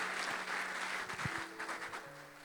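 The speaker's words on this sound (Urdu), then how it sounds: "اس کے کلام کے لیے تالیاں بجائیں" Church congregation clapping during a Sunday sermon, a soft, somewhat distant patter of many hands that thins out toward the end, quiet and reverberant.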